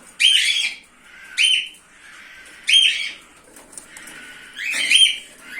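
Several birds in an aviary call in short bursts, four separate chirping calls spaced a second or so apart, fairly close, with quieter chatter between them.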